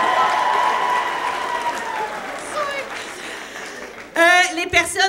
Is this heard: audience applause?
yes